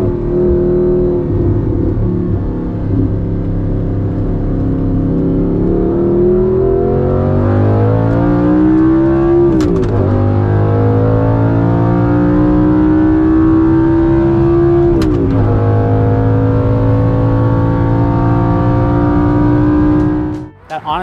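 Audi R8 mid-engine supercar with a manual transmission, revving hard through the gears from up close, engine pitch rising repeatedly and dropping at each sharp shift, loud throughout.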